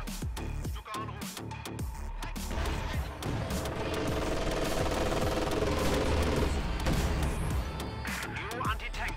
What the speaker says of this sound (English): Stuka sent to strafe the area.